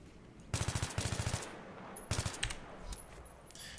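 An AEK rifle fires in Battlefield 3 with loud, rhythmic automatic bursts: a longer volley, then a shorter one, followed by a few scattered shots and game noises.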